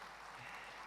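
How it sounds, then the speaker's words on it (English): Brief, faint burst of audience applause at an XLRI Jamshedpur graduation ceremony, a dense wash of clapping with no break in it. "let's give him a big round of applause to him"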